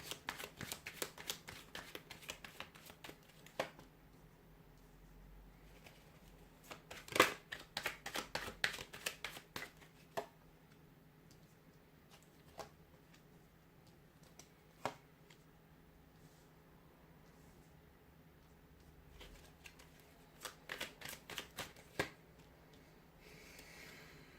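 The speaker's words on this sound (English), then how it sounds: "We'll give the cards a shuffle" Tarot cards being shuffled in several quick riffling bursts, crisp flutters and taps close by, separated by quiet pauses; no one speaks.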